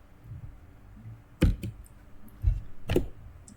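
Computer keyboard typing heard close but quiet, with a few sharp separate key clicks spread over a few seconds in an otherwise quiet room.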